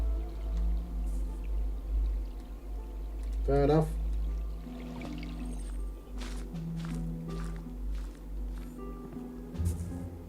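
Water pours and splashes in the video game XING: The Land Beyond, a fairly close, steady wash with a brief warbling burst, while a person speaks over it.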